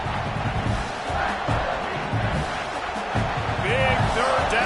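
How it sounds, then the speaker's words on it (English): A football stadium crowd roars for the defense on a big third down in the red zone, a loud, sustained wash of cheering and yelling with a few sharp shouts rising above it. "this crowd is getting behind this defense"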